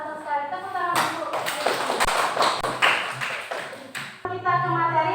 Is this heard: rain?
no